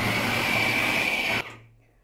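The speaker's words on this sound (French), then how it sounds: "il vous suffit de bien mixer" A kitchen blender whirs steadily and loudly as it purées sweet potatoes with sugar for homemade jam, then cuts off abruptly, the motor winding down into quiet.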